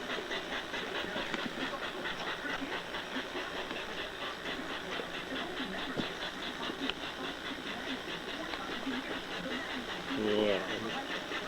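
A steady running rumble with a rhythmic clicking pattern from a new small toy train moving along track, fairly faint and continuous.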